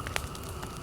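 A campfire burns in the survival game The Forest, giving a soft, steady crackle with a couple of brief pops over a low hiss, faint and short.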